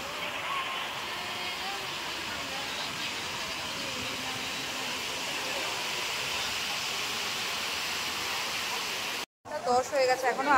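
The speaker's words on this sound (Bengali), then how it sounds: "ভালো ঢেউ রয়েছে সমুদ্রে, কতটা দূর অব্দি জল চলে আসছে পুরো।" Sea waves at Puri beach make a steady, broad roar that wraps the whole scene in continuous wash, dropping out briefly near the end before the surf noise returns.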